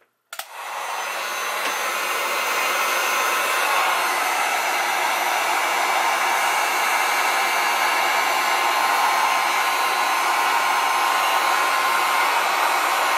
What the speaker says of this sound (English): This is an actual heat gun, a Wagner heat gun.